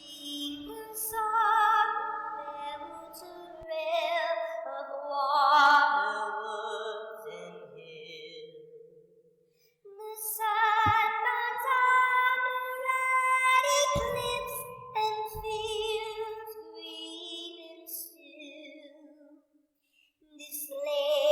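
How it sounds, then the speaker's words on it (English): A ghostly song sung as an elven woman in a Dungeons & Dragons session: a solo voice carrying slow, wavering, sustained notes in long phrases with brief pauses, close and fairly quiet. "this elven woman who is singing this ghostly song"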